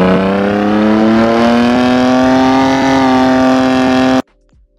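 Sustained exterior rev of a BMW S55 engine sound mod, a steady loud engine drone with rising pitch held for about four seconds, then cutting off abruptly to near silence.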